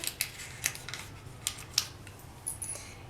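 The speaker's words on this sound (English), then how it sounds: "So I'll take another cut with my largest cutter" A clay cutter slices through polymer clay in a handful of short, faint clicks and taps spread irregularly over a few seconds, with no talking.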